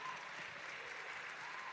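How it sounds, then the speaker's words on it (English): Applause from a pageant audience at the Mr. and Miss Supranational Namibia 2022 event, a steady, even wash of clapping heard faintly throughout, with no speech on top. "Please give a round of applause."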